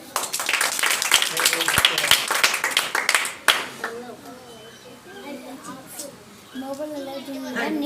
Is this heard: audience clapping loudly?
yes